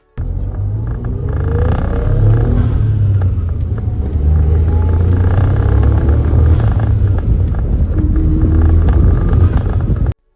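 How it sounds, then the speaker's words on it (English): A low, steady droning rumble with a throbbing drivetrain vibration inside a moving Suzuki Cappuccino, continuous and fairly loud, no talking. "I still had this annoying vibration issue, which you can see and hear in this video"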